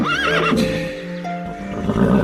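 A horse gives a loud, close whinny with a wavering pitch in a radio drama scene, followed by a lower steady tone and rustling movement, with no talking.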